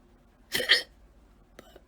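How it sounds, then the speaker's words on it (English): A single sharp, loud hiccup from a person in an otherwise quiet room, followed by a fainter short catch of breath or second small hiccup about a second later. "Please go away, hiccups."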